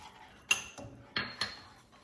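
Green onion whites being stirred into a sesame sauce in a bowl for vegan sesame tofu, a few scattered clinks and scrapes of a utensil against the bowl, close and fairly quiet.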